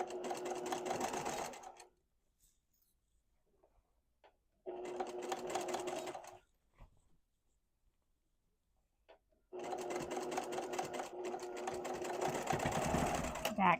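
Sewing machine stitching a skirt seam onto a dress in three bursts of steady whirring, close by, with quiet pauses between runs and no talk over the stitching.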